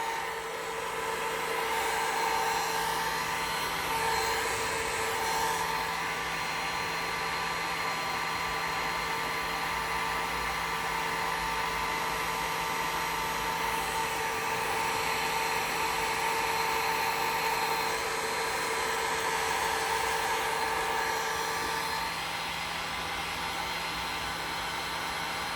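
A blower running on a low setting while melting crayons gives a steady, loud whooshing hum with a constant tonal whine, close and unbroken for the whole stretch.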